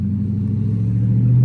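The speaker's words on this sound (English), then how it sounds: "Car still driving fine." A Dodge Charger R/T engine holds a steady low rumble while the car drives on a freshly swapped differential, loud and continuous with a slight rise in level toward the end, no voices present.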